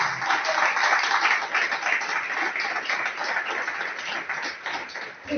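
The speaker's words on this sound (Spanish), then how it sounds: "Denle un aplauso al Señor si usted lo considera de esa manera." A crowd applauds continuously, a dense wash of many hands clapping that fades near the end.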